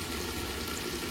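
Biryani masala with coriander powder sizzling and bubbling in a pot for Bangalore mutton donne biryani, a steady, close frying crackle with no voices.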